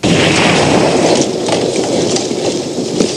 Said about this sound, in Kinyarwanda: urusaku rw'amasasu rwatangiye kumvikana mu misozi hejuru